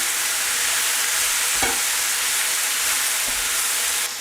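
Diced onion hitting hot oil in a pan alongside mushrooms for a shepherdless pie, giving a loud steady sizzle with a couple of brief stirring scrapes, no voices.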